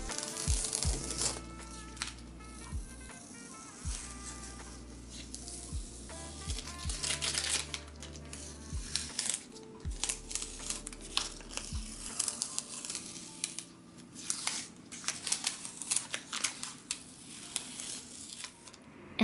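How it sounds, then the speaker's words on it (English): Masking tape peeled off the paper of a painted comic page, heard as repeated dry tearing and crinkling strips, close and fairly quiet, with a few low thumps of handling and no talking. "Here's some tape peeling action."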